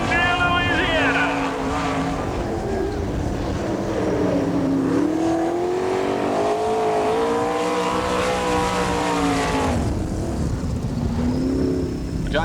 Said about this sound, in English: As Jason Johnson, the next Outlaw Sprint car, out on the racetrack.